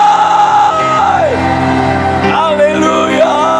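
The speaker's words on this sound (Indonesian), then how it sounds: "sorak-sorai" A church congregation cheers and shouts for joy during worship, with loud sustained yelling and whooping voices rising and falling together for several seconds, close and dense.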